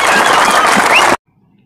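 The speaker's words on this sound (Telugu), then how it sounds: "ఈ ఇంతసేపు ఓపికతో ఉన్నటువంటి మంత్రి గారికి ఒకసారి గట్టిగా చప్పట్లతో దండాలి" Loud, dense applause from an assembled crowd honoring a minister at a public event, sustained steadily for about a second before cutting off abruptly into silence.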